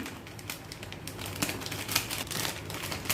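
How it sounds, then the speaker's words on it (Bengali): Plastic Maggi Spicy Garlic Twist noodle packets crinkle and crackle as they are cut open, a dense, continuous rustling up close. "এরপর প্যাকেটগুলোকে কেটে নিচ্ছি"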